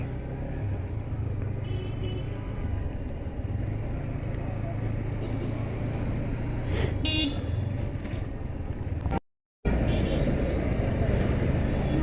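Heavy traffic jam on a rainy road in Rampura, heard from a motorbike: a constant rumble of engines and rain, with a few short horn toots in the distance and one brief dropout in the sound.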